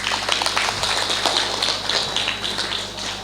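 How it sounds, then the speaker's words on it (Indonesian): Steady, fairly loud audience applause with a busy, rain-like texture of many hands clapping continuously, no voices standing out. "Tepuk tangan dong."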